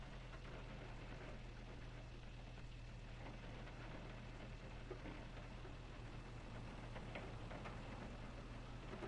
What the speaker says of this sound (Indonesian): Di sini lagi hujan.